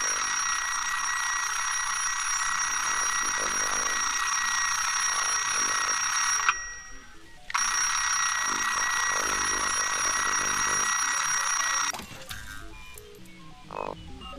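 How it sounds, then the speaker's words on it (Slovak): An alarm clock rings in the video game Sir, You Are Being Hunted, with a loud, continuous metallic bell ringing that breaks off briefly, resumes, then gives way to quieter clatter. "Ten budík, to je super."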